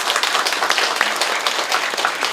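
An audience at a book launch for a women's documentary novel claps together in a brief, dense burst of applause, steady throughout without any cheering.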